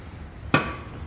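One sharp hammer strike rings out on a metallic exhaust core during straight-piping work on an RB30 turbo engine, a single loud clang with a brief ringing metallic tail against quiet background.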